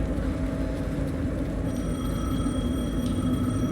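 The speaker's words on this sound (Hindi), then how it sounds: "फोन रिंग कर रहा है कहाँ पे?" Telephone ringing inside the video game Alan Wake II, a steady repeating ring under a low rumbling game ambience, with no talk over it.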